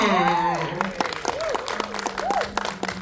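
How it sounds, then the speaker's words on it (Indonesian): Audience at a film event applauding a special guest, scattered claps in a continuous patter beneath a voice as she speaks through most of it. "Tepuk tangannya dulu dong untuk Kak Frinka."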